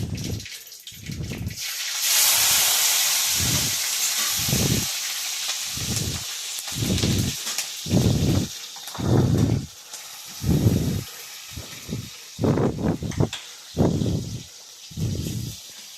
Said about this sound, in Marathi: आता यात जिरे टाकून घेऊ. जिरे आणि मोहरी पुन्हा मिरची.